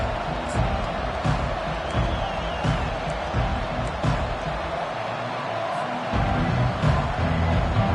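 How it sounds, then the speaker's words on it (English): A stadium crowd at a Colorado at Clemson college football game roars in a steady, dense wash of cheering and noise throughout, with scattered whoops rising above the din. "This crowd bringing the energy and noise early."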